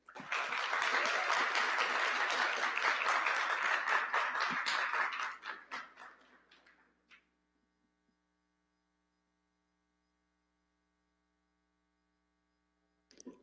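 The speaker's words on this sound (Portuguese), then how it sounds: "Uma salva de palmas para Léo Sampaio." Audience applause for a speaker at a conference, loud dense clapping for about five seconds, then thinning to scattered claps and fading out into near silence with a steady low hum.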